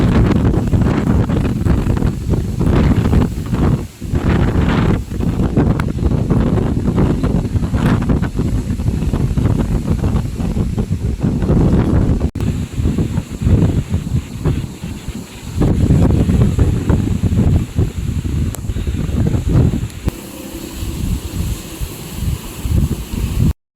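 Strong wind buffets the microphone in loud, continuous gusts for a long stretch during a heavy rainstorm in the Philippines, with a roaring rush and rustling mixed in.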